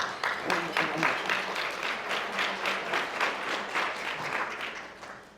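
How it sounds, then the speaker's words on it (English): A conference audience applauds steadily for several seconds, a dense wash of clapping with a few faint voices underneath, tapering off at the end. "Mr. Carl Ritchie, would you welcome with a round of applause, please?"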